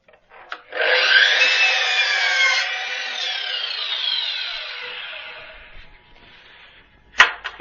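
A power saw cuts through a wooden board while building a vertical garden planter: one continuous, fairly loud whining cut lasting about six seconds, ending with a sharp knock.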